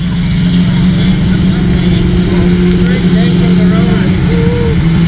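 A 1929 Austin 7 car engine runs with a steady, low, buzzing drone, loud and close, at a vintage rally parade, a muffled voice faintly audible over it.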